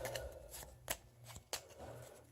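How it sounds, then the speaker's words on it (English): Board game tiles for Wendake are shuffled by hand, producing a soft continuous rustle broken by a couple of sharper clacks, close and fairly quiet. "Let's shuffle these up."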